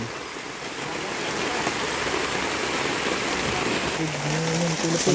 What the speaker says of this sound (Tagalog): Maulan na